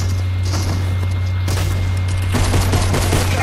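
Gunfire in the Fortnite video game: rapid, loud bursts of shots, dense and continuous, like a fusillade heard through game audio over a steady low hum.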